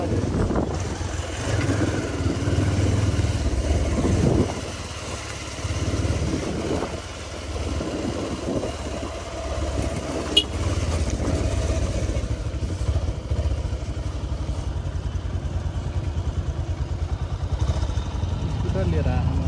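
Scooter engine running steadily on a mountain road from Chitwan toward Manang in Nepal, a continuous low drone with wind rumble throughout, while a rider talks over it.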